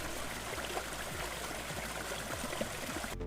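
A waterfall gives a steady, dense rush of falling water, an even broadband roar with no voices, holding at a constant moderate level throughout.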